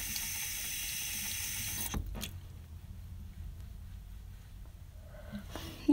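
A bathroom tap runs strongly for about two seconds while someone washes their face with warm water, then shuts off, leaving a quiet room with a few faint handling sounds.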